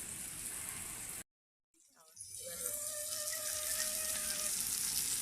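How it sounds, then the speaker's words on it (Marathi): Fish sizzles and spits in a pan over a wood-fired chulha, a steady loud frying hiss that cuts out briefly near the start and then returns, with faint crackling. "बघा आता कसलं बरे फ्राय होते"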